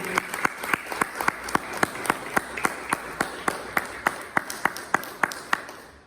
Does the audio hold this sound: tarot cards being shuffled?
no